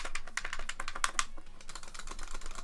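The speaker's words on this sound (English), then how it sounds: "Nice clicky buttons." Rapid clicky presses on the buttons of a Japanese Sega Mega Drive Arcade Power Stick, a dense run of sharp plastic clicks close to the mic with no talking.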